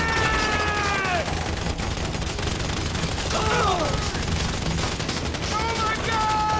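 Rapid machine-gun fire and scattered shots in a heist video game, dense and constant throughout, mixed with shouting voices.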